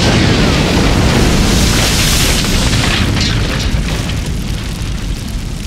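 Pyrolysis gases and particles ignite explosively in a fire, producing a loud, sustained roaring boom of dense, broad rumble that holds for several seconds and eases off only slightly toward the end, with no voices.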